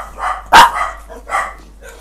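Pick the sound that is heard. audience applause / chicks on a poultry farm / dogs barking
dogs barking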